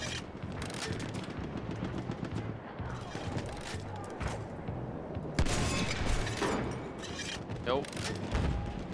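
Gunfire aimed at a tank in Battlefield 1: bursts of rapid shots and sharp impacts in game audio, with voices talking over the action.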